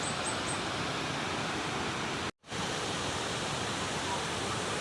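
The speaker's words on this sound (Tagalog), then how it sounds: "Guys, ito ang Pinoyan Falls." Pinoyan Falls pours in a constant, dense roar of rushing water, loud and close, broken only by a momentary cut to silence near the middle.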